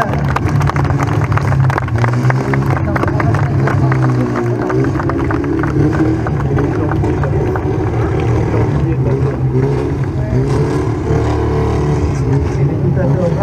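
Stunt car balanced on two wheels at a stunt-driving show in Guilvinec, engine restarting and then idling low and steady, with a crowd and announcer talking over it throughout.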